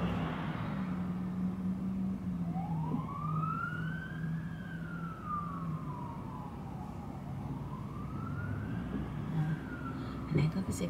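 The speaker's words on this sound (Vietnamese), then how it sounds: "Nãy có cái xe cảnh sát nó vượt qua luôn" A police car siren wails as it passes on a street in the US in autumn, its pitch sweeping up and down in long arcs over a steady low rumble of traffic.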